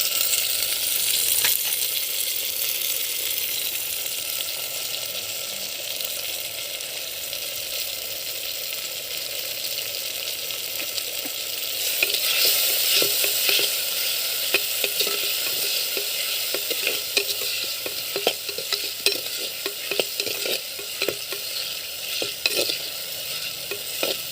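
Mashed tomatoes frying in a pan for country chicken rasam give a steady, close sizzle that grows louder and more crackly partway through, with occasional stirring.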